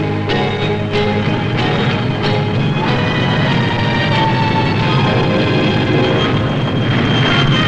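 Military jet aircraft at the Farnborough air show, a steady, loud broadband roar of engines sustained throughout with no pause and no voices.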